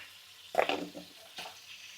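Chicken pieces frying in oil with browned onion slices and turmeric, giving a soft close sizzle with a couple of stirring scrapes and bursts of crackle.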